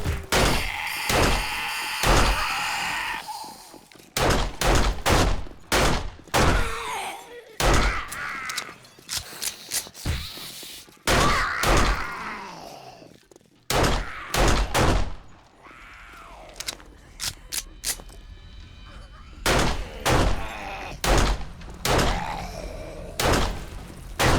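Sharp, loud gunshots crack in repeated bursts while zombies are shot down at night in 7 Days to Die, with brief pauses between volleys.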